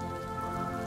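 Steady rain falls in a dense, even hiss for about a second, close and continuous with no voices.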